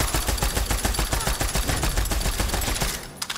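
A gun fires in the video game Borderlands 3 in a rapid, steady burst of loud, close shots that runs almost the whole time before cutting off.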